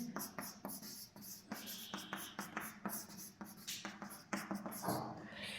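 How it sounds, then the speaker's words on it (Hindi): Handwriting on a board during a maths lesson on quadratic equations, a close series of scratchy strokes and taps with an uneven rhythm. "यहाँ लिख दे रहे हैं एक बार"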